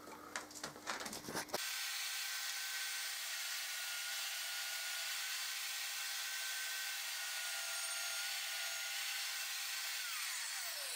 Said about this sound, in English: Now going to use the saw to take out the rest of the material.